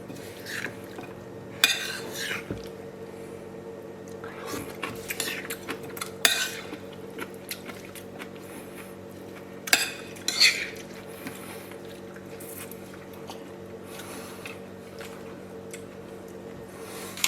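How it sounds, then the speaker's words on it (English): A spoon stirring shrimp salad with cucumber, lime and black pepper in a bowl, giving intermittent clinks and scrapes against the dish with soft wet squishing between, close and fairly quiet over a steady background hum. "we'll stir this up and taste it"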